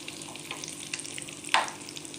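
Algerian potato maakouda fries in oil with a continuous close sizzle, small crackles scattered through it and a sharper spatter or scrape near the end, no talking.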